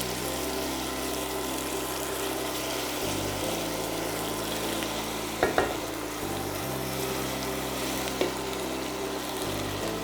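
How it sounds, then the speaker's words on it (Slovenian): Chopped onions frying in a pan for a cherry chutney, a quiet continuous sizzle with a couple of soft stirring clinks. "Zdaj se skupaj malo popražimo"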